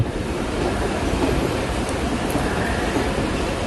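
A train rumbles past close by, a steady broadband roar of wheels and cars with faint clatter throughout, no voices.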